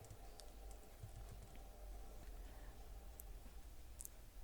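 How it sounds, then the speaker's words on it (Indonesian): Values typed into an Excel spreadsheet on a computer keyboard: faint, scattered key clicks over a low steady background hum, with a couple of sharper taps near the end. "kita ketikkan dulu nilainya"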